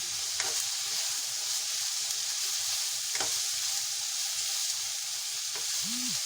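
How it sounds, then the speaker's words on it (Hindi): Vegetables for chicken spaghetti sizzle and fry in a pan seasoned with oregano, a steady bright crackling hiss punctuated by a few soft scrapes of stirring. "सब्जियां हमारी फ्राई हो गई है"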